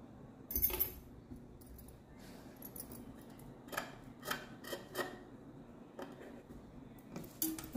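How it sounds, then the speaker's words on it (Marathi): Scissors cut through blouse fabric in a handful of faint, dry snips and rasps scattered over several seconds. Soft handling rustles sit between the cuts in a quiet room. "मेन कापडवर आपण आता हे कापून घेऊया."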